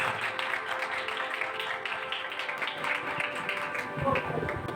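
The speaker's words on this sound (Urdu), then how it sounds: "آئے زوردار تالیاں" Faint, dense clapping from an audience at a Christian worship gathering, steady for a few seconds with no clear pauses.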